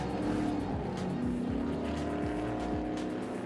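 GT race cars, including Cayman GT4 and TA2 machines, driving at speed on the Sepang International Circuit in Malaysia, a loud continuous engine roar with shifting pitch and tire squeal as cars pass, filling the whole clip without talk.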